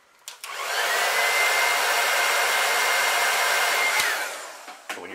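A heat gun blows on fresh paint on a pumpkinseed crankbait, a steady close whirring hiss that starts abruptly, runs about four seconds and then winds down, with small clicks around it.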